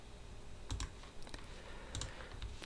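A few soft computer mouse or key clicks, quiet and spaced out in small pairs, pressing a print button in a still room with no talking.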